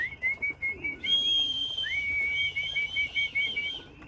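Someone calls pigeons back into their loft with a series of thin, high whistles, repeated in short bursts and longer sustained tones. Faint cooing and background noise sit underneath.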